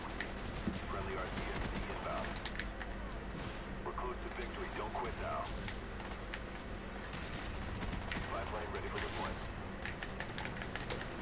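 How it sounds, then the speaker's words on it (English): Uzi gunfire in a video game, sprayed blind as dense rapid crackling bursts over a steady game background, with a voice talking faintly underneath. "Oh, I'm just blind firing now."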